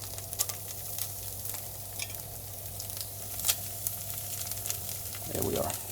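Lobster pieces frying in butter in a smoking-hot pan, a steady close sizzle and crackle throughout, with a brief louder clatter near the end.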